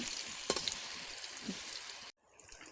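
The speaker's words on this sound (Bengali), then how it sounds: "আমাদের কোপ্তাগুলো ভাজা একদম কমপ্লিট, এখন নামিয়ে নেব।" Kofta balls frying in hot oil give a steady close sizzle with small crackles and pops throughout, broken by a brief near-silence near the end before the sizzle resumes more quietly.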